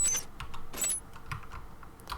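Computer keyboard keys tapped a few times in quick, irregular succession at close range while working on a game mod, the clicks fairly quiet with no talk.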